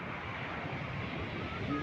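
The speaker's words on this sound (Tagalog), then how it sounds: "nagwawala ang malalaking mga alon" Large sea waves surge and break in a steady, loud, broadband roar of churning surf with constant wind rush, no distinct individual crashes standing out over the brief stretch.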